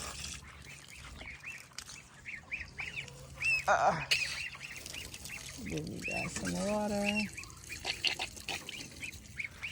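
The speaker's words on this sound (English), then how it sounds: "Those are the geese." Geese on a small farm honk and cackle in scattered bursts, some near and loud, mixed with general poultry noise while a person talks nearby.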